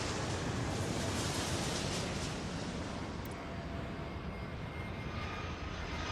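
Roaring jet engines of an airliner taking off in the video game Airport Madness, a loud, broad, continuous rush of noise that eases slightly toward the end, with no voices.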